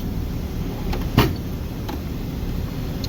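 A drawer in an industrial maintenance technician's toolbox slides open with one short scraping rattle over a steady background hum.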